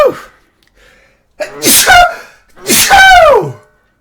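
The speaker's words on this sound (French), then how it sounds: "j'ai une envie d'éternuer" A person lets out two loud, close sneezes in quick succession, the second longer and more forceful, after a brief quiet lead-in.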